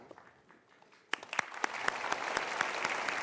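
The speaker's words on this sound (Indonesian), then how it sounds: "Boleh diberikan tepuk tangan, sahabat-sahabat." A studio audience at a televised talk show applauds, starting with a few sharp, scattered claps that swell quickly into dense, sustained clapping close by.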